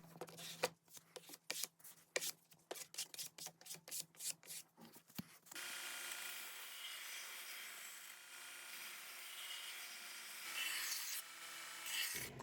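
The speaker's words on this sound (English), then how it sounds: "I'm using this little pastry scraper." A small pastry scraper rasps across a wooden decor piece in quick, close, rhythmic strokes, then gives way to a steady, even hiss.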